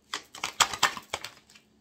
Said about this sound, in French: On va recouvrir ces 6 cartes-là.